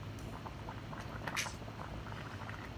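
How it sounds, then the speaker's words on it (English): Water bubbling in a pot as pasta cooks in a room, a steady low, soft rolling boil with faint popping that stays even throughout. "Can you hear the water boiling? I'm cooking pasta in my room."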